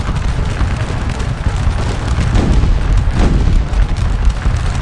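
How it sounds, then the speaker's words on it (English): Cannon fire in a Battle of Waterloo real-time strategy game: dull, muffled booms roll over a continuous low battlefield rumble, with a couple of stronger thuds standing out midway. "Every time I hear that cannon fire, I get giddy"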